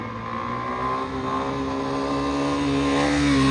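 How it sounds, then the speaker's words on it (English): A Suzuki DRZ400SM motorcycle engine held near redline during a wheelie, a steady high-pitched drone that gradually grows louder, close and alone. "you can hear the bike is almost redlining out"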